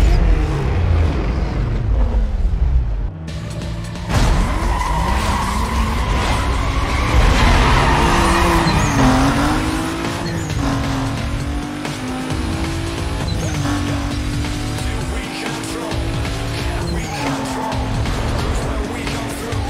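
Race cars in a sprint race in Need for Speed: Most Wanted roar continuously, engines rising and falling through gear changes with tire squeals and skids, loud and close, and a voice talks faintly at times.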